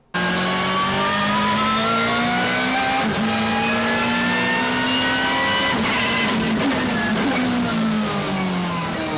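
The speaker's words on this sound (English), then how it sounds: "that whine is a real sound that comes from the race car's straight cut gear transmission" A race car's straight-cut gearbox whines in a high, steady tone that rises and falls with the revving engine, loud and continuous.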